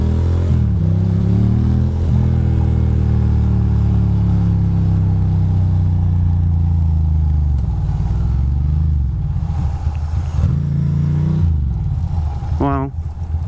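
A Ducati Monster motorcycle rides and slows to park, its engine loud and close, rising and falling with throttle, gear shifts and a rev near the end.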